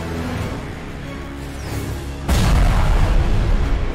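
A grenade detonates in the shooter game Space Alpha, a sudden loud boom cutting in over a steady background hum and sustaining a heavy low rumble afterward.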